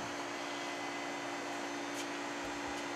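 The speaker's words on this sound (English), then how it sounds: "This is a deep vacuum pump, two-stage, that is designed to pull refrigeration systems into a deep vacuum" A two-stage deep vacuum pump for pulling refrigeration systems into vacuum runs steadily with a loud, even mechanical drone and broad airy hiss, alone and unchanging.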